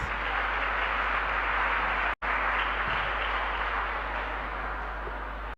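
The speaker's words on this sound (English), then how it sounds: "A round of applause, please" Audience at a school public speaking competition launch applauding the welcome address, a dense, even roar of clapping heard through a steady low hum, cut by a brief dropout partway through.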